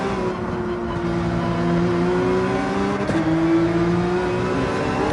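A Ford race car engine in Gran Turismo 7 drones steadily at high revs, with a brief shift blip midway and the tone holding close and even throughout.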